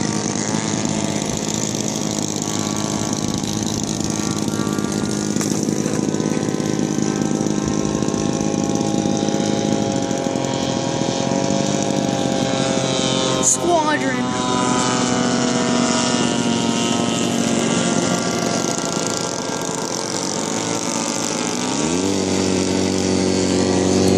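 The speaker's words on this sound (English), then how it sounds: "Airplane about to take off." A warbird airplane's piston engine idles and runs up before takeoff at an airshow, a loud steady droning roar with shifting harmonic tones throughout, no speech.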